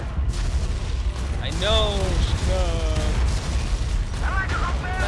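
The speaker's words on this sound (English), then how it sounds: "Artillery fire on our position." Artillery fire in the real-time strategy game Tom Clancy's EndWar booms and rumbles steadily under voiced game radio chatter and a short spoken reply.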